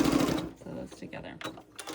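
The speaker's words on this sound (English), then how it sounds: "Sew those together." A sewing machine stitches quilt binding strips together in a short, uneven burst that fades after the first half second, with a voice talking over the later part.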